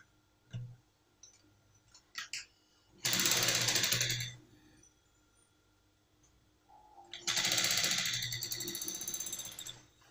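A sewing machine stitches a zipper onto trousers in two close bursts of rapid rattling stitching, each about one to three seconds long, with clicks and handling noises between them.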